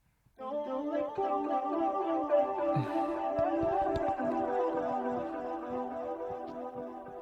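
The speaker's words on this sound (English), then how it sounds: "also did these vocal throws with my Korg SD 2000." Sustained layered synth chords with a drifting, echoing vocal tone repeated through a Korg SD-2000 delay effect, steady and full throughout.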